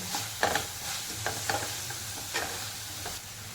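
Onion, tomato and garlic paste frying in a pan for a dry cauliflower curry, with a steady sizzle and a spoon scraping the pan in short strokes every second or so, close and alone.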